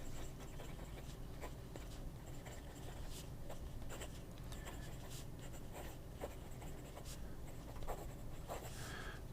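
A fountain pen nib writing wet ink across paper, a faint close scratching of short strokes with frequent small ticks, heard alone.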